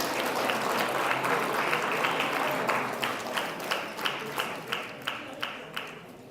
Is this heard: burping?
no